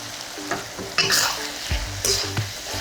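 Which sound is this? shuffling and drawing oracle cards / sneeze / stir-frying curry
stir-frying curry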